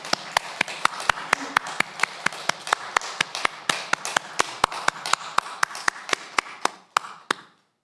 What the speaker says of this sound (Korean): 우리 모두 힘찬 박수로 영광 돌립니다